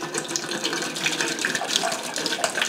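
Bottled water splashes and gurgles steadily as it is poured down a kitchen sink drain, a continuous close rushing trickle with no talking.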